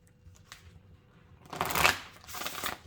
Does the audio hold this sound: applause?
no